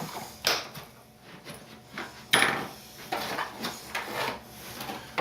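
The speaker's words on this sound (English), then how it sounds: "drop in the 4 little mounting screws that are a Phillips head countersunk bolt" Small Phillips-head countersunk 3mm screws are fitted into a model airplane motor mount on the firewall, giving a series of light, irregular clicks, taps and scrapes close by with quiet gaps between them.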